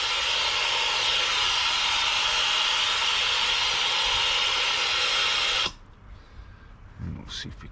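A loud, steady broadband whoosh of a vacuum pump running during a Range Rover Evoque service for several seconds, then it cuts off abruptly, leaving quiet with a few faint clicks.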